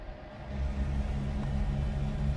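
Muffled truck engine heard from inside the cab in American Truck Simulator, a low steady rumble that swells slightly and holds, faint and constant.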